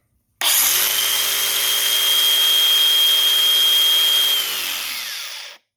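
A Dewalt cordless 4.5–5 inch angle grinder spins up sharply to a loud steady whine with a high tone, then its brake pulls it down quickly to silence; no talk.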